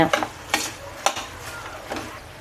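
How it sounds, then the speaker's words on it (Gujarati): A spoon stirs a jaggery mixture for sukhadi in a hot pan, giving four or five close scraping strokes with a soft sizzle underneath. "એક જ મિનિટ આપણે એ ગોળને હલાવશું"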